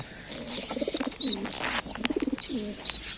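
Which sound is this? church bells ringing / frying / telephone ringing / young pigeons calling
young pigeons calling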